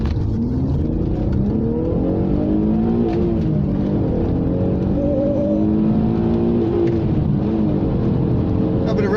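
An Alfa Romeo 156 V6 accelerates hard from a standstill, its engine note rising through the revs in a loud, close, continuous pull with shifting pitch sweeps as it climbs through the gears, and a voice speaks briefly over it.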